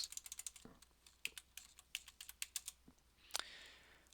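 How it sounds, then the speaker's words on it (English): Someone types a new password on a computer keyboard, producing a quick run of distinct, close key clicks with short pauses and one brief cluster of louder taps. "I'm going to hit Y for yes and just type in my new password"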